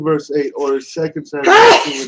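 A single loud, close sneeze bursts out after a person speaks several words during a Bible reading discussion.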